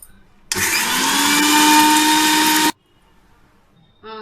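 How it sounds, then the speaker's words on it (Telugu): A mixer grinder grinding coriander seeds and cumin whirs loudly for about two seconds, then stops suddenly, leaving near silence before a brief new sound at the end. "వేసి మరలా మిక్సీ పెట్టుకోవాలి"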